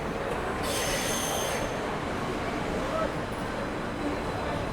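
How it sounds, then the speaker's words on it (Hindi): A WDP 4D diesel locomotive pulls in on the Delhi to Jodhpur line, a steady rail rumble broken by a brief high wheel squeal near the start, heard close amid busy station noise. "ये आ गई जी हमारी ट्रेन की पावर"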